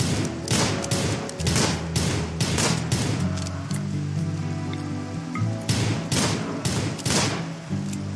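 Gunfire from RimWorld: clustered bursts of rapid shots crackle in two volleys, with a steadier stretch between them, all over a continuous tonal background.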